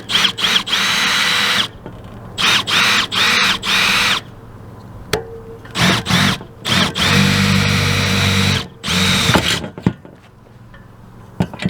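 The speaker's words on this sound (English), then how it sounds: "We'll go ahead and drill the other one." A power drill boring a hole with a 3/16-inch bit, whining loudly in several bursts of a second or two each, with short pauses between runs.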